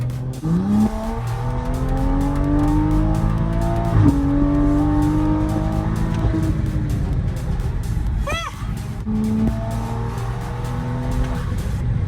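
A Toyota Supra accelerates hard, its engine rising loud and close through several gear changes with upward-sweeping revs, a brief squeal near the end, steady roaring throughout without speech.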